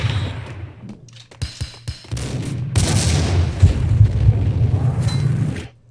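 Gunfire in the video game Max Payne: a quick burst of sharp, punchy shots, then a dense, loud stretch of rumbling booms that cuts off abruptly at the end.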